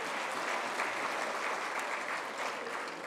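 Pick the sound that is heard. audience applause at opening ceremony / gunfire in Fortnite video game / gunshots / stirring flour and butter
audience applause at opening ceremony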